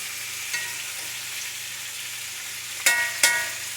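Garlic frying in a hot cast iron skillet gives a steady soft sizzle, with a couple of brief scraping stirs near the end and no talking.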